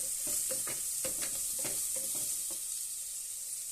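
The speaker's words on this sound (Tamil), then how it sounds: "சின்னதாக தக்காளி கட் பண்ணி வச்சுருக்கேன். அதையும் போட்டு ஆட் பண்ணுறேன்" Chopped tomato and green chillies fry in a pan while a spoon stirs them, making a series of scraping knocks over a constant soft sizzle. The strokes fade out toward the end and the hiss continues alone.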